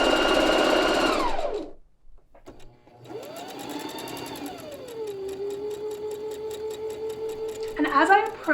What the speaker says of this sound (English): So I'll give this a back stitch.